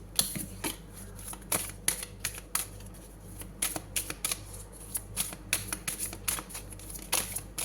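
Cards being shuffled, likely a tarot deck, in repeated quick riffling bursts with sharp papery slaps, close and fairly quiet with no talking.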